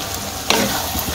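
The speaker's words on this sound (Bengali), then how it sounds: "এখন আমি পেঁয়াজ ভাজা আর বাইম মাছগুলো দিয়ে দিব।" Fried onions and eel fish go into water lilies frying in a pan, setting off a sudden loud sizzle with the scrape of stirring, close up and with no talking.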